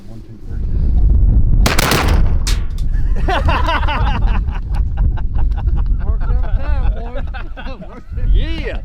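Several shotguns boom together at ducks on a Louisiana duck hunt, a loud near volley followed by more shots, with hunters shouting and talking excitedly over the fading reports.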